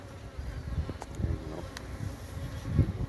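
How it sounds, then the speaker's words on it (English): Africanized bees swarm around their wild colony inside a tire, producing a steady close buzzing hum with a few louder passes near the ear. "This is just about a quarter of the colony of bees in this tire."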